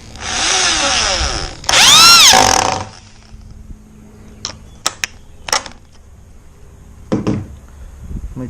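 A power drill driving screws into the wooden boards of a raised garden bed: two loud whirring bursts with rising pitch, then quieter knocks and clatters of handling the timber, close by.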